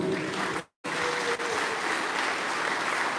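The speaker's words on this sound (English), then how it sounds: "give all of our graduates a big round of applause this morning" Audience applause for police graduates at a Guam Airport Police and Park Police Reserve graduation ceremony, broad steady clapping that cuts out briefly and then carries on evenly, with no talk over it.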